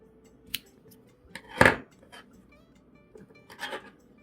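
Scissors snip crochet yarn in a few quiet, separate cuts, the main snip loud and crisp against a soft background with no voice.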